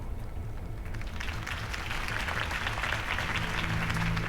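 Applause from a crowd in Batman: The Telltale Series swells steadily, a dense wash of clapping that builds slightly louder toward the end, with low rumbling underneath.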